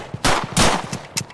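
Several loud, close gunshots ring out from a gun in the Roblox horror game Nightmare, two big blasts in quick succession followed by a smaller shot, each with a short echoing tail.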